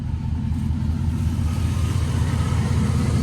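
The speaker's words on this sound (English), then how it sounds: "me to give him one more rev before you go?" A Chevrolet Silverado truck engine runs up close with a loud, steady low rumble held for about three seconds, with no talk over it.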